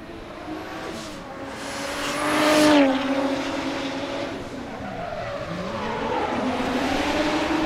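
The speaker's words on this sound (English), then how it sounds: "So the next one is Ivar Mustakimov, his Lexus IS 200 with 500 horsepower, number 53. Starting off" A 500-horsepower Lexus IS 200 drift car starts its qualifying run at a Sochi round, its engine screaming up through the revs with tire squeal and skidding. The car is loud and close, and a rev sweep peaks then settles into a sustained howl.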